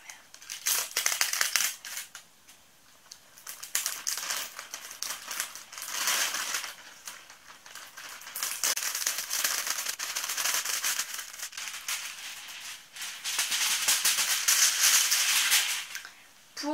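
Crinkly plastic packaging is rustled and torn open around a potted mint plant, close and loud in repeated crackling bursts with short pauses between them.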